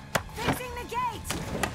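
A gate being repaired in Overkill's The Walking Dead game gives off several sharp wooden knocks and chopping thwacks spread across a couple of seconds, close and moderately loud over a busy background.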